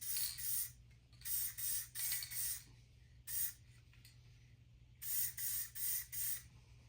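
A spray can coats the inside of a motorcycle tank in a series of short, close hissing bursts separated by quiet gaps, with a low steady hum underneath.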